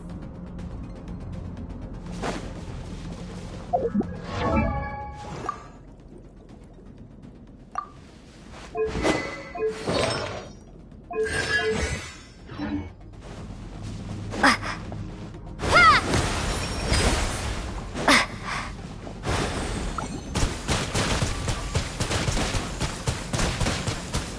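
Water-element attacks smash spikes in Genshin Impact, heard as scattered sharp bursts, clanks and crashing impacts separated by quieter gaps, with a denser, sustained stretch of crunching effects near the end.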